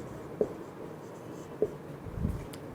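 Chalk or marker strokes on a board during a Class 12 physics lesson on electric current, a few short scratchy taps spaced about a second apart over a quiet room.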